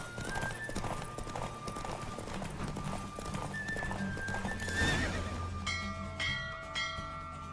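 A horse gallops in a Witcher 3 race, with rapid hoofbeats and a loud neigh under game music and a bell-like chime, close and continuous throughout.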